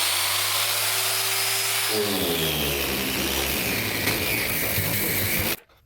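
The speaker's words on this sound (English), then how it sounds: "I'm gonna give it a shot with my Harbor Freight DA polisher, use it as a sander" A Harbor Freight dual-action polisher fitted with 180-grit paper spins up and sands a MKIV Supra's body panel, a steady close buzzing whir that cuts off abruptly at the end.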